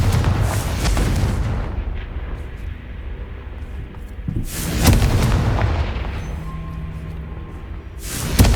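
Confringo blasting curse in Hogwarts Legacy, loud booming explosions in the game, three heavy bursts spaced a few seconds apart, each fading into a quieter rumbling tail.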